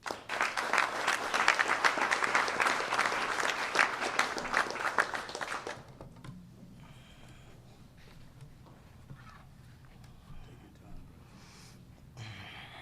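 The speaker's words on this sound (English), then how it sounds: "Clap your hands for Alonzo Waheed." Audience applause at a Chicago mayoral executive order signing, a loud burst of clapping that fills the first six seconds and then stops abruptly, leaving quiet room noise.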